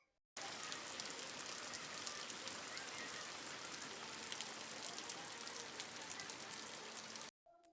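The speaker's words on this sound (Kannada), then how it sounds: "ನೀವೇ ನೋಡ್ಬೋದು ಎಷ್ಟು ಜೋರಾಗಿ ಮಳೆ ಬರ್ತಾ ಇದೆ" Heavy monsoon rain pours steadily on Nagara Panchami, a dense, loud, continuous hiss of drops on surfaces that holds at even strength for about seven seconds before cutting off.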